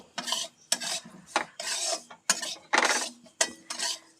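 Semolina fried in ghee over a low flame with cashews and raisins, stirred in a pan; rhythmic scraping and rasping strokes repeat about every half second, close and fairly quiet.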